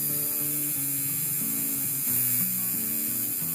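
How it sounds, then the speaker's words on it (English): Tattoo machine needle buzzing on a wrist, a steady close electric whine that shifts slightly in pitch as it works, running continuously without talk. "Now finally the needlework started on my wrist."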